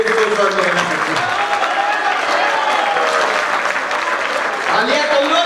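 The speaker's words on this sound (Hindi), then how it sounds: "तालियां कमजोर है सिपाही के सम्मान में" A crowd at a comedy poetry recital applauds loudly and steadily, with a voice speaking over the clapping throughout.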